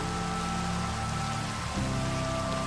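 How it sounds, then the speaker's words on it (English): Steady rain falls in a video game world while building a castle, a constant broadband patter with a faint tonal hum underneath, no voices. "it rains constantly"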